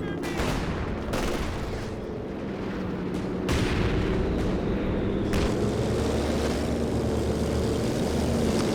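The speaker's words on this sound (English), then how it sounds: "Dropping in the anti-infantry planes here." Anti-infantry planes swoop in over a Company of Heroes 2 battle, their droning engine tone sweeping across a constant roar of gunfire, punctuated by several sharp, loud cracks of strafing or explosions.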